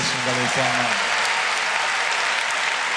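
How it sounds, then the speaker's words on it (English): A church congregation clapping hands during worship, a dense wash of applause filling the room, with a short burst of a voice or music near the start before the clapping carries on alone. "Somebody clap your hands to Jesus."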